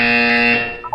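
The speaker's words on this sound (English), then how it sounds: "You will hear a buzzer." A buzzer from the Portal 2 video game sounds as one loud, steady, harmonically rich electronic tone that holds for about half a second, then fades out, with nothing else alongside it.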